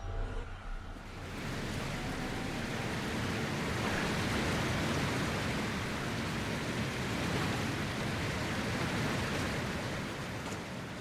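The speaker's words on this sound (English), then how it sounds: "Loud waterfall." Loud waterfall in the video game Dragon Age Inquisition, a steady broadband roar of rushing water that swells in after the first second and holds constant and near, with no talk.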